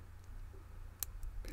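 Lock pin clicking while a lock is picked, a few faint sharp clicks spaced irregularly, with the loudest single click near the middle, over a quiet low hum.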